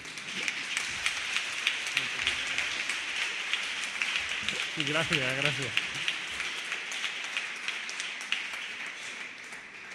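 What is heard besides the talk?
audience applause at political rally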